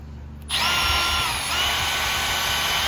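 A power drill whirs up suddenly after a brief quiet moment and keeps running steadily at a high-pitched whine, close by.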